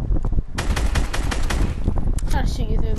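Rapid gunfire aimed at a wall rings out in a loud, close burst of fast repeated shots, nearly continuous for a few seconds.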